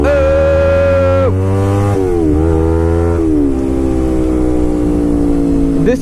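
A Kawasaki Ninja 250R motorcycle accelerating hard through the gears, with a loud, high-revving engine whine that climbs and then drops at each shift, close and continuous.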